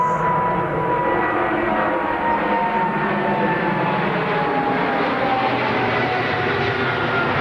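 A Boeing 777 with GE90 engines at Heathrow as a steady, dense jet roar with a faint whining tone, constant and fairly loud throughout with no talk.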